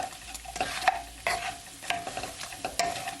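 Shrimp tossed and fried in a pan for salt and pepper shrimp, with repeated scraping stir strokes every half second or so over a bubbling sizzle, close and alone.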